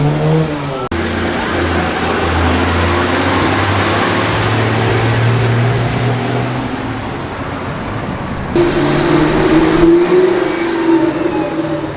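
A Mitsubishi Evo engine runs at a classic car show, a steady mid-pitched drone that swells louder in the last few seconds amid outdoor crowd ambience.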